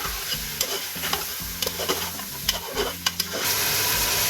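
Garlic and ginger paste frying in a pan with mutton pieces, stirred steadily with a spoon; a continuous close sizzle and hiss under repeated scraping and stirring knocks, with no talking.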